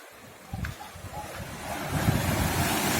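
Ocean waves on the shore at a small Tenerife coastal village, a steady surf wash swelling louder over a few seconds, with wind buffeting the microphone and no talk.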